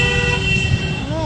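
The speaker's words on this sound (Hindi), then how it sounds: "हॉर्न बजा रहा है, ये क्या सफारी का ड्राइवर है?" A safari vehicle's horn sounds in Jim Corbett National Park during a stop for elephants, a steady sustained tone over the rumble of an idling engine, with a second rising tone near the end.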